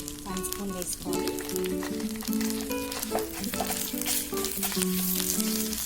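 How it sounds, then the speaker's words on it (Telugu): Ginger garlic paste fries in a pan with a loud, close sizzle and crackle, with occasional stirring scrapes and clinks, while someone talks over the cooking. "కొద్దిగా జింజర్ గార్లిక్ పేస్ట్ విధంగా ఫ్రై చేసుకొని"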